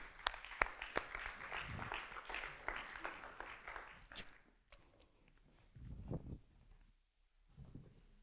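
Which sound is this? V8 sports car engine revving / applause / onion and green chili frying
applause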